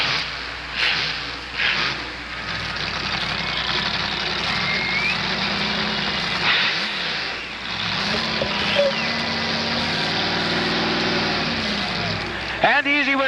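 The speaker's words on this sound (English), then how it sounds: "Here comes Borus, the monster truck, with one more run up and over the cars." A monster truck engine roars and revs as the truck runs up and over a row of cars at a monster truck competition, loud and continuous with crowd noise, under an announcer talking.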